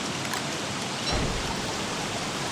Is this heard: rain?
yes